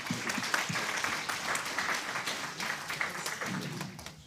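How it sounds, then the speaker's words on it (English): Steady applause from a seated audience at a food-tech startup demo day, a dense, even wash of clapping that holds for several seconds with faint voices mixed in. "Again, round of applause for Eric."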